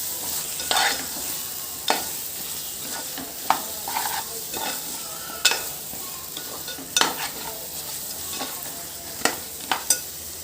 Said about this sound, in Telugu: ములక్కాడలు వేసుకొని ఇలా కలుపుకోవాలి.